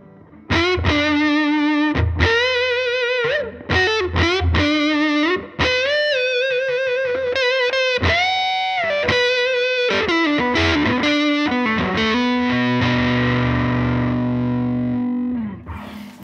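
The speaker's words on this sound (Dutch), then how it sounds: "Dat was de fuzz op de flatstand." Keeley Dark Side pedal set to fuzz in flat mode on electric guitar, heard as a thick, saturated riff of short chopped notes and bends that ends in a long, sustained, decaying chord, loud and alone.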